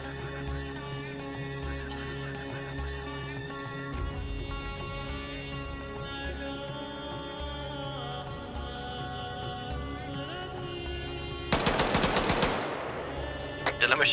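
Machine gun fire in Arma 3 during an urban combat operation, a loud rapid burst of automatic shots near the end over a steady background of game music and ambience.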